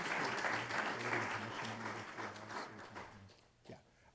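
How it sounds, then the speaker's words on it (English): Applause from an audience at a city State of the City address, a dense patter of clapping that slowly fades out, followed by a brief quiet moment. "So thank you, if we can clap for them."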